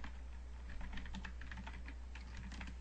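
Keys clatter steadily on a computer keyboard as a command is typed into a command prompt window, a dense run of close, crisp clicks with no voice over them.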